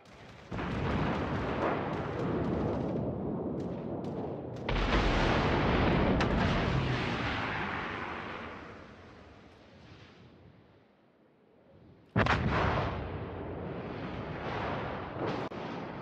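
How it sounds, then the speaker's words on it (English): Heavy naval artillery booms from warships in a World of Warships battle during a storm, loud rumbling blasts that sustain and decay, a quieter lull, then another sudden powerful volley. "Concentrate fire on the enemy warship."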